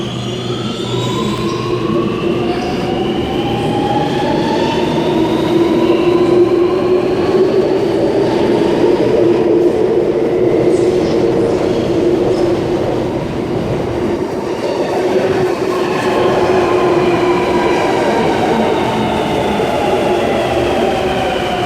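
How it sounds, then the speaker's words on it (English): An Ulster Metropolis metro set pulls out of a station platform at night, a loud, sustained rumble of wheels and traction motors with rising whines sweeping upward as the train accelerates and a brief dip midway, no talking. "And Ulster Metropolis set number 11 is now departing platform number 3 for a Tallawon service."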